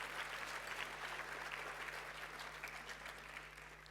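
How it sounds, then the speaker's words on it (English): Steady applause from an audience at a youth science, technology and innovation conference fills the room, a dense patter of many hands clapping that fades slightly toward the end. "let us give them another round of applause."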